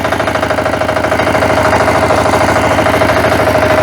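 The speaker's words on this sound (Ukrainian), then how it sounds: "наскільки, як ви бачите, тихесенько їде мотоблочок" A walk-behind tractor with a differential runs in reverse gear, its engine chugging in a steady, even rhythm at close range with no talk over it.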